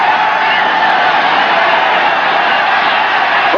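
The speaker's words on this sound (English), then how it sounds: "Listen to this crowd." A packed football stadium crowd roars after a quarterback sack by the New York Jets' defense against the Buffalo Bills in a 1981 AFC wild card game, a loud, sustained wall of cheering with no break.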